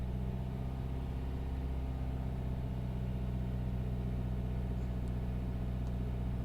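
BMW diesel engine, a car with a clogging DPF, idling steadily at about 2000 RPM, a constant close mechanical drone and rumble without talking.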